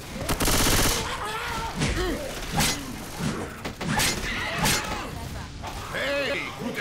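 Rapid bursts of gunfire in the video game DeathCraft II crackle in quick succession, loud and close, with German voices talking over the shooting.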